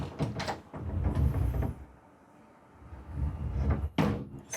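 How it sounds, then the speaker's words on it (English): A sliding door on the cockpit of a Storm Bay 45 sedan motor yacht rumbles along its track in two rolling passes, separated by a quiet pause, ending with a sharp bump as it stops. "we've got the sliding door here"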